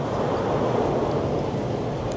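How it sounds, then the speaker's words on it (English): Continuous blustery wind rushing across the microphone at a Mardi Gras festival at Six Flags Fiesta Texas, a broad steady roar without voices. "Oh, it's windy."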